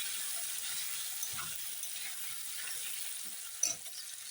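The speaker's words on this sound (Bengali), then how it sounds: "এখন আস্তে আস্তে আলুগুলো ভেজে নিই" Potatoes fry in a pan with turmeric, a faint steady sizzle running throughout, with soft stirring scrapes and a brief louder clink near the end.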